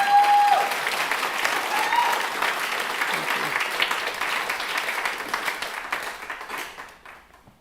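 Enthusiastic applause from a crowd fills the room, loud at first, then gradually thinning out and fading away.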